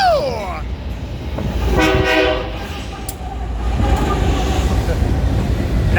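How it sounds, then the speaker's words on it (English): A westbound manifest freight train rumbles loudly past at Colton, its horn sounding in a long harmonic blast mid-clip over the heavy rolling roar, with voices underneath. "here goes the westbound manifest"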